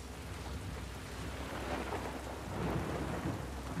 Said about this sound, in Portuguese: Tá me dando nervoso já essa chuva.